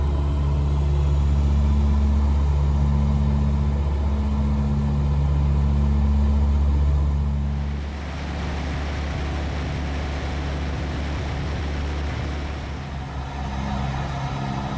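Twin engines of a Tecnam P2006T aircraft at cruise power, 25 inches manifold pressure and 2100 prop RPM at 4,000 feet, a loud steady droning hum with strong low tones, easing slightly midway through.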